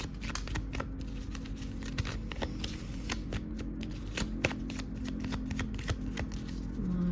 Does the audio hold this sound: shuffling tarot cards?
yes